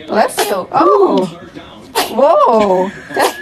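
A newborn baby sneezes several times in quick succession, sharp little bursts close up, while adults talk and react in between.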